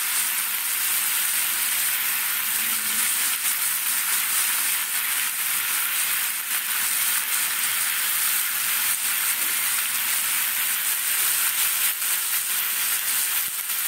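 Tomatoes fry in a hot pan with a steady, bright sizzle and hiss that holds constant and close throughout, with faint stirring and no talking.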